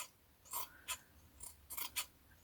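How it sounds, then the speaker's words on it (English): Small fabric scissors snip fabric scraps into tiny pieces, about six crisp, close cuts in an uneven rhythm against a quiet background. "we're going to get my little fabric scissors and we're literally going to chop"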